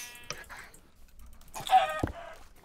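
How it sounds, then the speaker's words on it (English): Chickens cluck in Minecraft, a few short clucks in two bursts separated by a quiet gap, near and fairly clear. "So many chickens"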